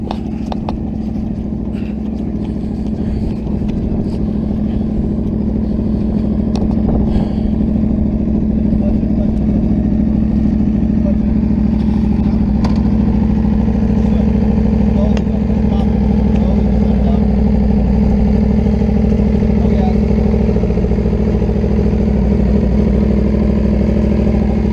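An Aprilia superbike engine at a race track, a continuous low mechanical drone that stays steady throughout, fairly loud and close, with voices faintly present.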